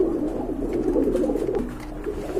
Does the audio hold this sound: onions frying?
no